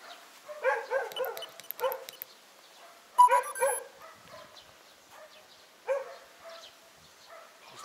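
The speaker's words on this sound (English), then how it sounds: "The dog is barking." A dog barks outside a house in Loyew, Belarus: a burst of several quick barks, then a sharper pair, then a single bark after a pause, moderately distant and with no talk over them.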